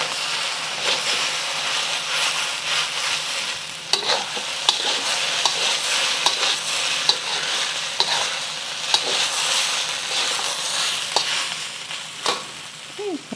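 Chicken fried rice sizzling loudly in a hot pan with soy sauce and oyster sauce, a constant close fry punctuated by stirring scrapes and tossing, with no talk.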